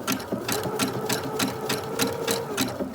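A sewing machine stitches appliqué fabric in a quick, steady run of even mechanical pulses, close and clear with no talking.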